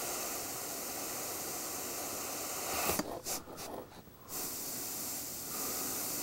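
An airbrush sprays paint with a continuous soft hiss, broken midway by a few short interruptions and sputtering bursts before the steady spray resumes.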